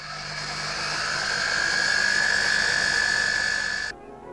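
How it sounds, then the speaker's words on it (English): Washing machine on its spin cycle, a steady whirring hum rising in pitch as the drum speeds up, loud and sustained before cutting off abruptly near the end. "the next stage is the spin"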